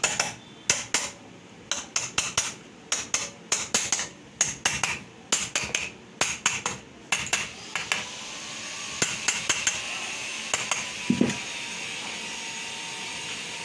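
Nut being tightened on a Kirloskar motor: a quick series of sharp metallic ratcheting clicks in bursts, close and distinct, giving way to a steady whirring hum toward the end.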